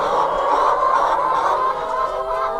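Hens cluck steadily in a coop beside a nesting box, a dense, continuous chatter of overlapping calls heard up close.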